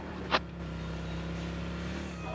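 Vehicle in the video game BGMI, a steady low engine drone running evenly throughout, with a short sharp click near the start.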